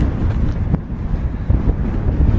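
Strong wind roars and buffets continuously high on a mountain pass on the Teton Crest Trail, a loud rumbling gusty rush with no voices.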